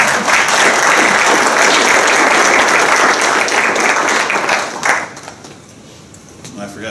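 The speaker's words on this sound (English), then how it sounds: "let's go ahead and give those parents a round of applause" A crowd of parents and guests at a football awards banquet applauds with loud, steady clapping that fades out near the end.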